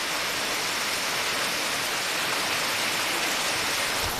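Steady rain pouring over a Konkan village, a dense even hiss filling the air without a break and no voices.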